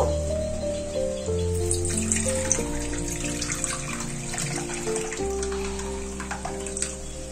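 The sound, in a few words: water poured into a bowl while cooking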